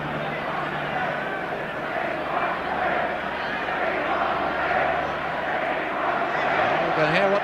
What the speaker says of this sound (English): hear what the crowd want